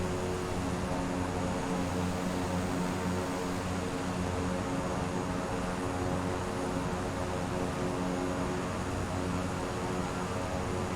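Steady, loud cabin drone of a King Air turboprop plane, a constant roar with humming engine tones and broadband rush and no breaks.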